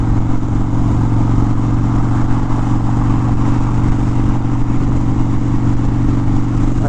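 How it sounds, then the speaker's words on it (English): Harley-Davidson Dyna Street Bob motorcycle with Vance & Hines aftermarket exhaust pipes cruising in fifth gear, a loud, steady, deep rumbling drone with constant engine throb throughout, close and unbroken. "These Vance & Pines pipes just sound awesome."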